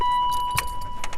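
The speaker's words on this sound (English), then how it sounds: "Let me get off your seatbelt." Seatbelt in a parked car unbuckled with a sharp metallic click and jangle at mid-clip, amid light rustling and soft shuffling inside the car, no voices.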